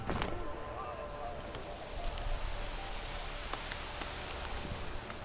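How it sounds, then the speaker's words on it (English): Rain in The Witcher 3: Wild Hunt falls as a steady, even hiss with scattered drops tapping nearby, continuing evenly throughout. "Looks like rain."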